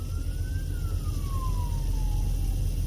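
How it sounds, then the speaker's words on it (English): A siren wails on the Las Vegas Strip, its single tone rising then sliding slowly downward over steady loud traffic and engine rumble, with no talking. "now I'm hearing a siren"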